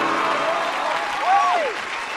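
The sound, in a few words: audience applause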